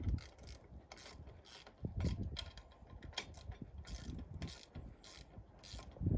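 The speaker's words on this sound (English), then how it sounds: "we lift the foils back up, like so, to the correct position and clamp them using the collar at the top of the torque tube" Hydrofoils lifted back into position and clamped with the collar atop the torque tube, giving a series of close mechanical clicks, ratcheting and metallic knocks with short rubbing scrapes, spread unevenly through the clip.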